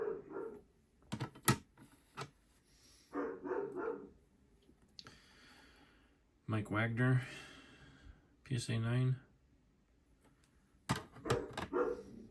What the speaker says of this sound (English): Some of these dogs out there barking.